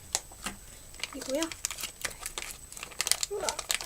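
Plastic bag crinkling and rustling as leftover homemade clay is packed away, with brief crinkles and handling noises spread across the clip and a person's speech heard in places.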